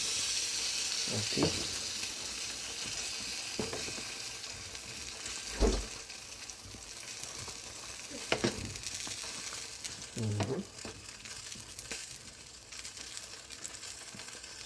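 Bicol Express sizzles and fries steadily in a pan, with occasional scraping stirs and clunks of a utensil cutting through the constant hiss. A single short spoken word interrupts briefly.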